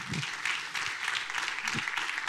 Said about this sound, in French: On peut peut-être applaudir l'ensemble de nos intervenants